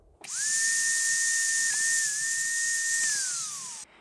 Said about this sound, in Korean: 이제 곡선이 너무 각져 있으니까 이 곡선을 조금만 부드럽게 다듬어 볼게요